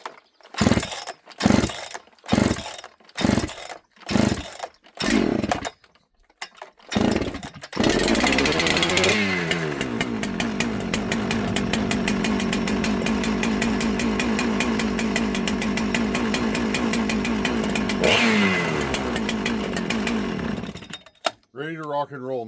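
A Husqvarna 394 chainsaw is pulled several times with sharp rhythmic cord yanks, then fires and runs loud and steady at close range, revving once before cutting off.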